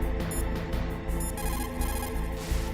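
A codec call to the Colonel rings in Metal Gear Solid, a repeating electronic tone in regular bursts, loud and close with no talk.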